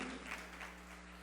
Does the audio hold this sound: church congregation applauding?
yes